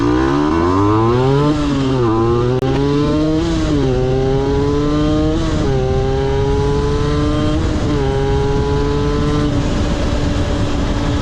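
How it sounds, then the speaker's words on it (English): Small-displacement motorcycle engine revving hard at high RPM, its high-pitched whine climbing through repeated rising sweeps with brief dips between gear shifts, loud and continuous with no talk. "And it's very high-pitched noise because it's a small displacement engine."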